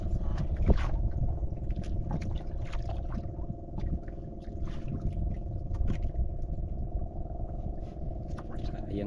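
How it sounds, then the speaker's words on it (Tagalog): A fishing boat's motor drones steadily on the water, a low continuous hum, while people talk intermittently nearby. "Uwi na yung isang bangka."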